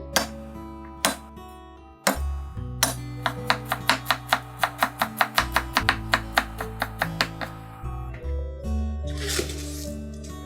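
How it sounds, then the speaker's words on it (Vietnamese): A knife minces two garlic cloves and two shallots on a cutting board for a Vietnamese egg tofu dish: a run of rapid, evenly spaced chopping taps, close and crisp, over steady background music. "Bây giờ mình sẽ băm tỏi với hành tím."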